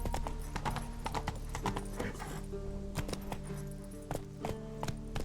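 A horse gallops in The Witcher 3 video game, its hooves beating a quick, steady clip-clop rhythm up close, loud and continuous with no other sound over it.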